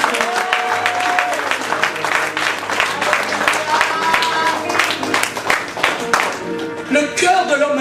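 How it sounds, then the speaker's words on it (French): A church congregation clapping and cheering in a dense, steady wave of applause, with voices rising through it and musical tones sustained underneath. "Alors acclamons très fort le Seigneur."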